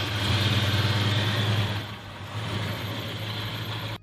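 A 273 cubic inch small-block V8 in an Australian 1970s sedan runs at a steady, loud idle with a deep throbbing rumble, easing slightly midway before settling back, alone with no voices.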